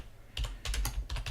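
Quick keystrokes on a computer keyboard, about half a dozen close, crisp clicks in a short burst with no voices.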